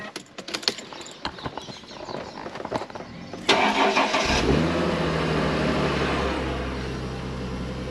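A V6 car engine cranks with a few clicks and rattles, then catches and settles into a loud, steady idle with a low rumble, close by on a damp day at a car show.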